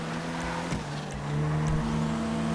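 A Fukaru Sport GT car driving in GTA on a Monaco street circuit: a loud, close engine drone with pitch shifts as it revs and changes gear, a brief tire squeal, no voices.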